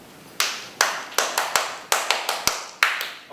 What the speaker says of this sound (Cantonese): 我需要同大家去做一個少少嘅拍手掌儀式